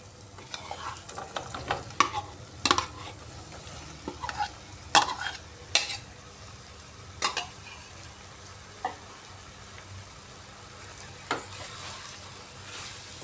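Potol (pointed gourd) and potatoes fry with spices in a wok, the steady sizzle broken by repeated loud scrapes and clanks of a spatula stirring against the metal.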